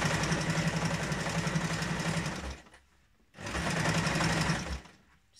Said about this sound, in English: Regarding your webbing, I'm going to sew directly on top.